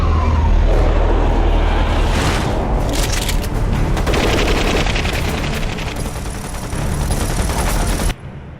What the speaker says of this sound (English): we've got a bunch of guys shooting at a monster